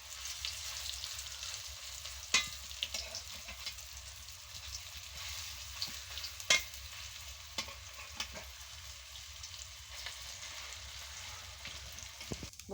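Prawn fritters made with small shrimp, gram flour and onion frying in hot oil, a steady close sizzle throughout with a few sharp clatters of utensils and turning, no talking.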